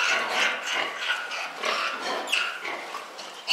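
Pigs and piglets on a farm grunt and squeal repeatedly in short overlapping bursts, fairly close and continuous, with no talking.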